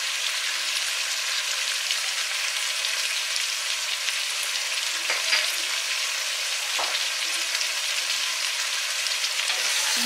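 Tajik plov ingredients frying in a pan with salt added, giving a steady, loud broadband sizzle that stays even throughout, with a couple of brief scraping stirs and no voices.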